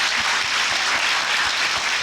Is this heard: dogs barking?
no